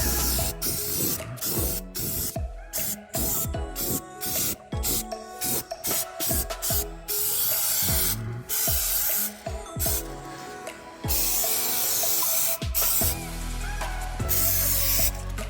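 Aerosol spray paint is applied to a Jeep Patriot strut mount, a steady hiss running throughout, broken by frequent clicks, knocks and rubbing handling sounds close by.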